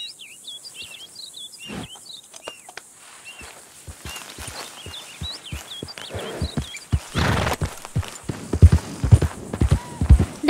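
A horse in Red Dead Redemption 2 moves through a jumping lesson over verticals and a cross pole. Its hooves clip-clop rhythmically and grow louder and heavier toward the end, with an occasional whinny over chirping birds and crickets.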